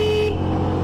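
A car horn blares in one loud, sustained tone during a police chase on a city road, close and dominant for under a second.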